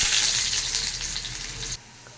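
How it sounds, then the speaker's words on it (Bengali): Onions fry in a pan for mashed potatoes, giving a loud, continuous crackling sizzle that cuts off abruptly near the end, leaving quiet. "এবার আমি আলু সেদ্ধর জন্য পেঁয়াজটাকে ভেজে নিচ্ছি।"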